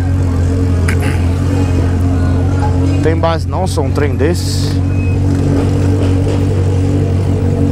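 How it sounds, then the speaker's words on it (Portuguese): A crowd of straight-piped Honda Hornet motorcycles gathered on a hill drones in a steady low rumble with occasional revs, running continuously beneath someone talking close by. "É muita moto, fio."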